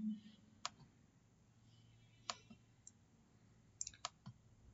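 Sharp single mouse clicks, several spaced a second or more apart, fairly close and quiet against a faint hum, with a double click near the end, while right-clicking on WPS Office in Windows 7.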